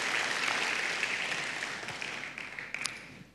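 A church congregation claps together in worship, a thick, close wash of applause that slowly fades, with a few sharper claps standing out near the end.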